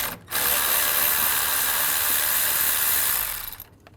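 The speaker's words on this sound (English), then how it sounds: "I'm going to use a 10mm socket, remove it" A continuous loud whirring burst of about three seconds, like a powered ratchet spinning, as a 10mm socket backs out a bolt near the radiator of a 2013-16 Nissan Sentra.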